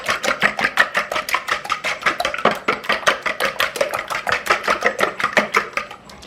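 Baking ingredients are mixed by hand in a bowl for Christmas baking, giving a fast, even series of sharp taps and scrapes, about four per second, close and steady, with no talking.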